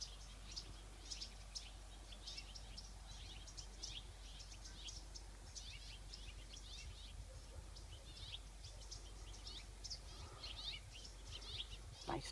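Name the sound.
neighborhood birds chirping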